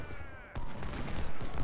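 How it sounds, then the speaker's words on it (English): Cannons firing in a Civil War battle in the Ultimate General Union campaign game, a rough burst of rapid overlapping gunfire and booms, moderately faint and continuous, with no talk. "The cannons can stop firing."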